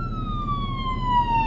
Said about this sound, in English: Where are sirens? They're coming from behind us.